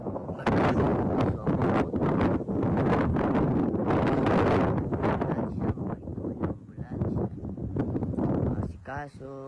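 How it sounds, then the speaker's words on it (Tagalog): Wind buffets an outdoor microphone in loud, gusty bursts of rumbling noise that come and go over several seconds, with a voice speaking briefly near the end. "Mahangin eh."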